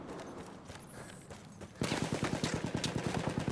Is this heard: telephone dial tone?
no